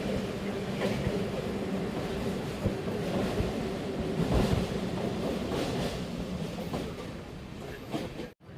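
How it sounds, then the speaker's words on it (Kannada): A train pulling into Bhadravati railway station's platform 1, a steady loud rumble with rhythmic wheel clatter that carries on throughout and cuts off at the end. "ನಮ್ಮ ಟ್ರೈನ್ ಈಗ Bhadravati railway station platform number 1ಕ್ಕೆ ಎಂಟ್ರಿ ಆಗ್ತಿದೆ"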